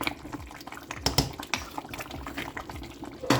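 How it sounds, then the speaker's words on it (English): Bubbling liquid boiling in a pot, with irregular pops and gurgles and a few sharper clicks, close up and moderately loud. "Boiling koto koto koto."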